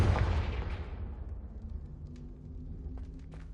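A blasting spell detonates in a Hogwarts Legacy battle, a loud broadband boom at the start that decays into a low rumble with scattered faint crackles trailing off.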